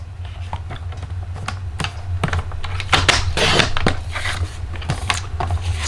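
Cardstock is sliced on a paper trimmer for a fold-front flap card, giving a run of crisp clicks and a scraping swipe of the blade over a steady low hum, close and moderately loud.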